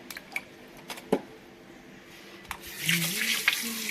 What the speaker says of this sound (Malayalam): ഇറച്ചിയപ്പോൾ ഇവിടെ വെള്ളത്തിൽ കൊടുക്കട്ടെ